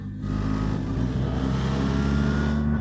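BMW R 1300 GS Adventure motorcycle engine held at steady high revs near the limiter, a loud continuous drone heard up close for nearly three seconds.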